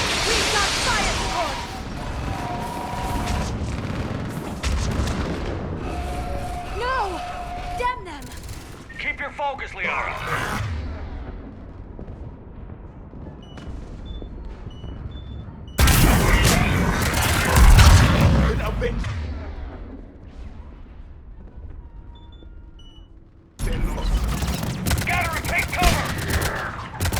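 Gunfire and explosions in a Mass Effect 3 combat sequence: bursts of rapid automatic fire and heavy booms, loud and dense, with shouted voices of characters over the battle and brief quieter gaps between volleys.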